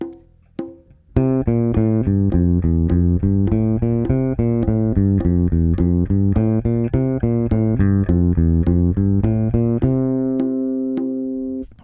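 A bass guitar plays a scale in a steady run of evenly spaced eighth notes, close and clear, ending on a sustained ringing note.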